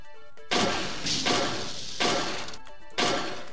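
Loud smashing impacts as security cameras are broken in System Shock Enhanced Edition: four heavy crashes spaced roughly a second apart, each with a bright shattering burst that decays quickly, electronic tones sounding between hits.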